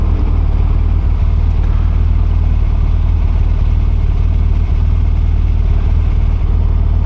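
A car engine in dynamic mode hums loud and steady from inside the cabin as the driver pulls away from traffic lights, a constant low drone with little change over several seconds.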